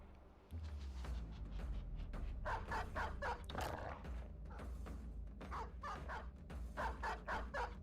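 A dog in the video game Battle Brothers barks in a rapid series of loud, harsh yaps over a low rumbling backdrop of battle noise.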